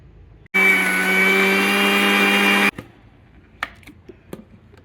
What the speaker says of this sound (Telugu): ఇలా వేయించి పెట్టుకున్న ఈ మునగాకు, ఎండుమిర్చి ఇవన్నీ మిక్సీ వేసేసుకుందామండి